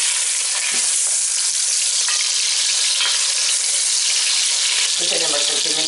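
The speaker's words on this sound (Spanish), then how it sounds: "Vamos a echar el pollo que se vaya sofriendo." Chicken pieces sizzle loudly and steadily in hot oil in a pan, a dense continuous frying hiss with occasional stirring clatter and a brief watery splash near the end.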